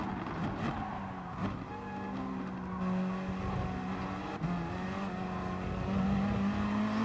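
Gr.3 race cars in Gran Turismo Sport at Fuji drone steadily behind a Porsche, engines holding a sustained hum with faint tire noise, no talk over them.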